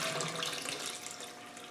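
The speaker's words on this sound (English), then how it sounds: "you can take your bung out and you can let all the water out" Water draining from a car radiator through a hose after the bung is removed, during TDI engine removal: a steady, close rushing trickle with a faint tonal line, running continuously without speech.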